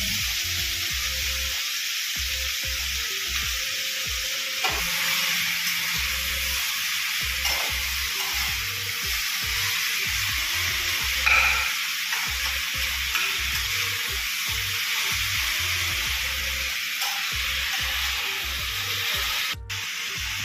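Tomatoes fry in a pan for paneer masala, a steady close sizzle with bursts of crackling and occasional stirring scrapes, continuous throughout with no talk.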